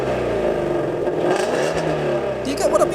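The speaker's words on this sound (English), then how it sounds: "the Mustang GT350R has a Voodoo V8 engine, which is known for its iconic raspy V8 tone" A Ford Mustang GT350R with its Voodoo V8 revs up close in a raspy, rising roar that climbs and falls, with a voice talking partly over the engine.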